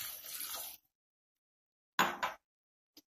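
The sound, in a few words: water poured into pan with pumpkin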